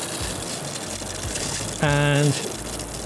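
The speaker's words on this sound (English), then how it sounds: "Okay, turn on the shower." Colapz 3 in 1 collapsible shower with hose switched on, water rushing out in a steady gush, with a short tonal pump-like burst in the middle; a brief spoken word occurs near the start.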